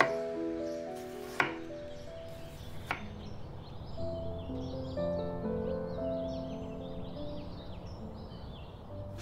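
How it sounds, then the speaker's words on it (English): A knife cuts green papaya into wedges, giving a couple of sharp cutting knocks early on over quiet kitchen background, with faint birdsong chirping behind. "Cut them into wedges like this."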